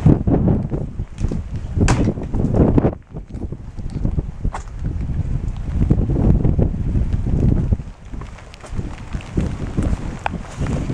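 Strong wind on a quarry edge buffets the microphone in continuous loud gusts, with rumbling roar rising and falling throughout.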